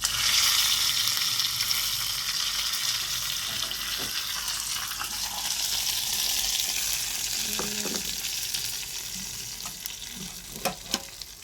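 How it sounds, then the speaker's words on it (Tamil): Oil sizzles and crackles steadily as mustard seeds and curry leaves fry, a dense hiss with a few sharp pops near the end. "கடுகு நல்லா பொரிஞ்சிடுச்சு இதுக்குள்ளே கருவேப்பிலை சேர்த்துப்போம்"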